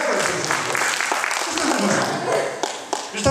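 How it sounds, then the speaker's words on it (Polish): An audience applauds at an illusionist's stage show in a community cultural centre, a burst of dense clapping from a crowd mixed with voices talking over it. "Oklaski już na to."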